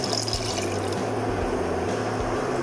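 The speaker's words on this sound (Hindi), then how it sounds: "इतना मैरिनेशन का मसाला बचा था उसमें थोड़ा पानी डाल के हमने हाफ कप और इसमें डाल दिया।" Water pours steadily into leftover marinade masala in a pan for quail curry, a continuous close trickle and gurgle with no speech.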